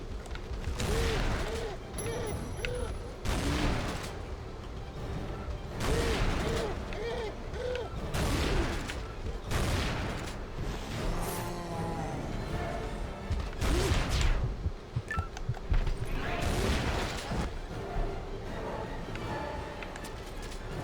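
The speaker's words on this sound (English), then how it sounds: "Let me use the shotgun." Repeated heavy shotgun blasts from the video game Tomb Raider Anniversary, roughly a dozen loud booming shots at irregular intervals, with a voice talking intermittently between them over game ambience.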